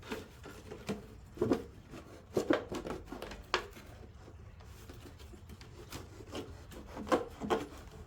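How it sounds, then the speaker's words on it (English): A knife saws through a plastic jug in irregular scraping, rasping strokes with small crackles, quiet and close, with no talk. "If I had a sharper knife, it'd probably be easier."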